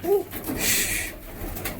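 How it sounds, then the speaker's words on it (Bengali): Soft, low male pigeon coos, a few brief throaty calls spaced out over a faint background hum, close by. "এটা হচ্ছে নর কবুতরটা মাদি কবুতরটা বাইরে রয়েছে"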